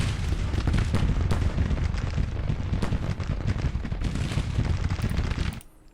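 Artillery guns firing in Grand Tactician: The Civil War, a dense rolling barrage of booms and bursts packed tightly together, loud and continuous, then cutting off abruptly near the end.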